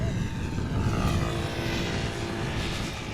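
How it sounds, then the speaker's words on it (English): A KLM Embraer E195-E2 airliner, a one-year-old jet arriving from Toulouse at Amsterdam Schiphol in gusty crosswinds, gives a steady, fairly faint engine rumble with a whining hum, no voices over it. "In the foreground we have E2 Embraer 195 arriving from Toulouse, KLM flight 1302"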